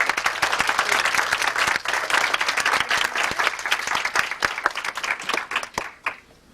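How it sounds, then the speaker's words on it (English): Sustained applause from an audience at a 1991 retirement party, steady dense clapping filling the room for several seconds before tapering off at the end. "I think we owe her a round of applause also"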